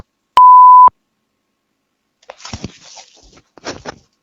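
A single steady electronic beep marks a phone call being disconnected, loud and about half a second long, followed after a pause by muffled rustling and faint handling noise.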